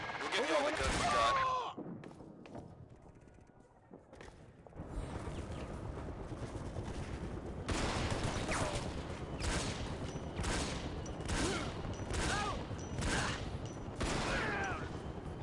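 Battle rifle gunfire in the video game Shadow Ops: Red Mercury, with dense bursts of close, loud shots and rattling volleys running through most of the span, mixed with battle noise and talk.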